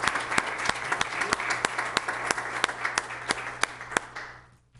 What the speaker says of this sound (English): can we just give him a round of applause in his absence?